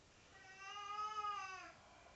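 One drawn-out cat meow, clear and tonal, rising and falling over about a second and a half against faint background hiss.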